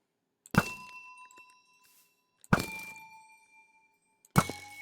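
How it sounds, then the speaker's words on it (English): Amethyst blocks in Minecraft give three bright, ringing chime hits spaced about two seconds apart, each a sharp crystalline strike with a clear, slowly fading twinkle, heard alone against silence. "I do really like that sort of twinkling sound."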